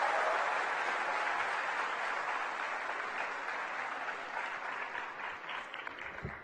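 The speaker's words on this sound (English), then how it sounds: "A big round of applause as we welcome him to speak a few words here." An audience at a literary festival applauds Javed Akhtar with steady, dense clapping that holds strong and then slowly thins and fades toward the end, no voices over it.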